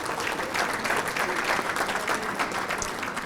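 Applause from a banquet crowd at a bowling association's adult awards dinner, a steady wash of many hands clapping at moderate volume throughout, with no voices over it.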